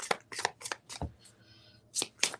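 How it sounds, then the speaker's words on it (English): Tarot cards being shuffled by hand, a series of short crisp riffling bursts at a quick uneven rhythm, close and moderately loud, with a brief quiet gap midway. "still shuffling."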